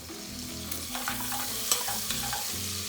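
A quarter stick of butter sizzles with crispy bacon in a pot for seafood chowder, giving a steady, close hiss broken by a few soft clicks and pops.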